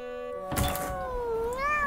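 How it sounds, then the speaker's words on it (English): Cartoon cat meowing in a snowy children's animated scene, one drawn-out rising and falling meow with a brief thump near the start, clear and close with no talk. "Silly cat."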